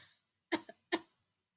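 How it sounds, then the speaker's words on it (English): Two short, faint coughs in place of a dinosaur's roar, each one a brief dry burst with a small catch between them, heard alone against near silence. "when he opened up to roar, what came out was a"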